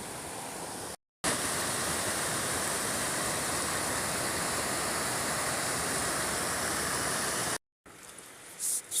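A river rushes steadily beside a hiking path in Hardcastle Crags near Hebden Bridge. The close, constant broadband wash of water is broken by two brief silent gaps.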